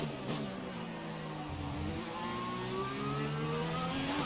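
A Formula 1 car from the F1 2020 video game runs at full power down a straight, its engine a steady high-pitched whine that climbs through the gears, loud and close with no talk over it.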